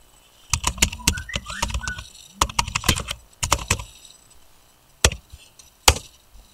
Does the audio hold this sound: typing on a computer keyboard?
yes